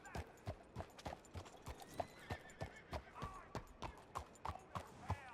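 Horse hooves clip-clop in a quick regular rhythm in a Red Dead Redemption 2 roleplay game, with a whinny among the steps, clear and close at a low overall level.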